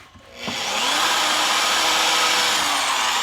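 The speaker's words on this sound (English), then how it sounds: "I got a little tiny drill bit on here. I'm just making little dingers in here" A small drill bit spins against spot welds on a Dodge Ram rocker panel, a steady loud whir that starts after a brief quiet moment and holds constant, with faint scraping as the bit barely touches the metal.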